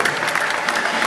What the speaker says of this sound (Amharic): አጨብጭቡ እስቲ ለእግዚአብሔር።